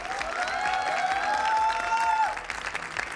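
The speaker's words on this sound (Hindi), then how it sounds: "अपने लिए तालियां बजा लीजिए।" A crowd claps steadily for a few seconds while a tonal sound rises and holds over the applause, then the clapping thins out.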